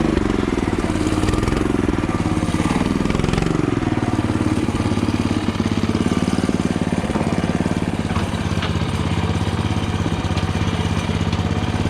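A Honda GC190-powered motorized wheelbarrow rolls down a heap in gear, its small single-cylinder engine chugging loud and steady close by with no talk over it.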